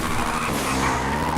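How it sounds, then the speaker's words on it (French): A quad bike in GTA rides on two wheels, a dense, loud engine roar mixed with screeching tire squeal and skidding noise that runs continuously and close for a short stretch, with no voices. "On peut faire même du 2 roues avec le quad"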